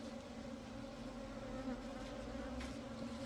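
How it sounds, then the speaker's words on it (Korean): Native Korean honeybees buzz continuously in a dense, steady drone, close by, with no speech and little change in loudness. "전부 다 토종벌입니다."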